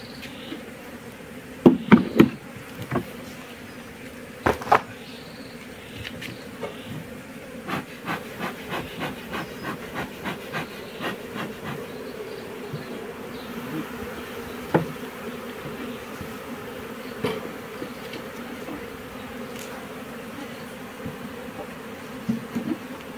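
Bees buzzing around an open beehive box being cleaned, a steady low hum punctuated by frequent sharp clicks and knocks of handling the wooden frames.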